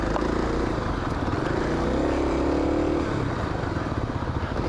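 Kawasaki KLX 250 dirt bike coasting downhill on single track, a steady low rumble of motor and rolling noise with some clatter, continuous and fairly loud throughout.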